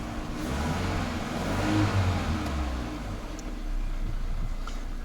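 An idling Peugeot 407 engine with a ZF 4HP20 automatic gearbox drones nearby, its pitch wavering and surging slightly rather than holding steady.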